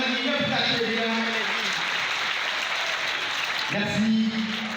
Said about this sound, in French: que maintenant les grandes personnes applaudissent bien sûr ces élèves